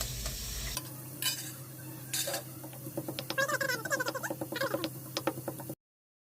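A spoon stirs bitter gourd curry (kakarakaya pulusu) in a pan with close, rhythmic scraping strokes over a soft sizzle, quickening toward the end before cutting to silence. No one speaks.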